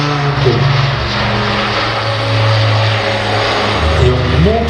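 A light Airbus A400M propeller transport plane accelerates hard down the runway for takeoff at an air show, its loud, droning engine and propeller roar steady and close throughout.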